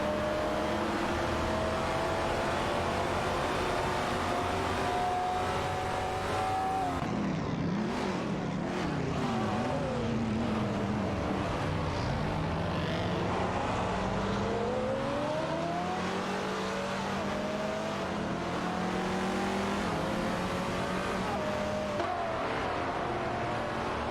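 Race cars in an AI racing video game accelerate through gears, their engines droning steadily up and down in pitch as they head into a straight, loud and continuous with no voices.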